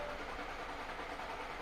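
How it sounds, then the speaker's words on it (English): Audi RS5 B9 with a 2.9 V6 TFSI engine cranking without firing, a steady, even whir of the starter turning the engine over, fairly faint and unbroken. "the engine is cranking, but it will not fire up"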